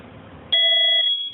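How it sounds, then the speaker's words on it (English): A household smoke detector is tested during a home appraisal and gives a sudden, loud electronic tone. It cuts in after a quiet stretch, holds for under a second, then fades. "We're testing smoke detectors because the appraiser says they should be in working condition."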